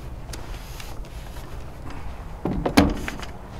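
An original bus door is taken off during a bus conversion, giving a quiet scraping stretch followed by a few sharp metallic clunks and knocks near the end, with no talking.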